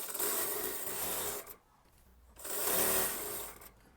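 A sewing machine stitches the kali panel of an Anarkali kurti in two bursts of fast, even whirring, near and loud, with a short pause between runs and no talk.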